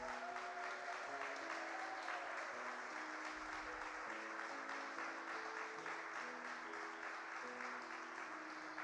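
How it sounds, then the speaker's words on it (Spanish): Church congregation applause, steady and sustained but fairly faint, with a held musical tone running underneath throughout. "Vamos a darle un aplauso al Señor"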